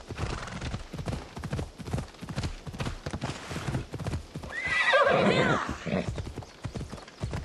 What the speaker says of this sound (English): Good job our horse is like a part-time mountain goat.